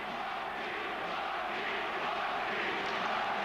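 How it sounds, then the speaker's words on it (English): A boxing crowd at a world title bout between Chris Eubank and Graciano Rocchigiani roars in support of the action in the ring, a steady, dense wash of distant cheering with no break. "the crowd respond to the action in the ring with support of their own"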